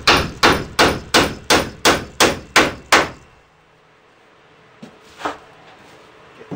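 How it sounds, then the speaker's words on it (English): Nine steady, evenly spaced hammer blows drive a nail while shelves are being built, loud and close, followed by quiet and a couple of faint knocks. "Hammer in the first one."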